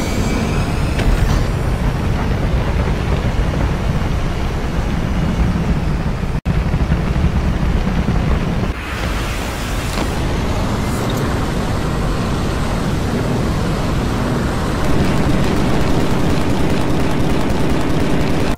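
A Halo aircraft's jet engine from the video game roars loud and continuous, a broad whooshing thrust with a brief cut and a surge partway through, then sustained rumbling to the end.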